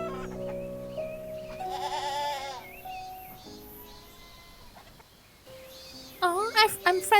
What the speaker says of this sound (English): Oh, I'm friends with the white goat now.